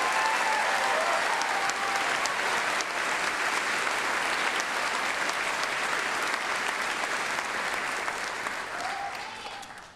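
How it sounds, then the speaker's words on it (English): Loud, sustained applause from a commencement audience for the graduating class of 2024 at North Idaho College, a thick roar of clapping that holds steady and fades out at the end. "will everyone join me in a round of applause for the graduating class of 2024"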